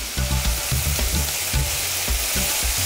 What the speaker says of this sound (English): Next in goes some chili, and then coconut milk.